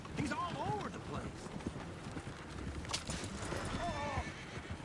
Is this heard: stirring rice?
no